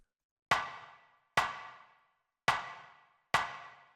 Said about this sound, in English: After that, we have this rim shot, which sounds like this.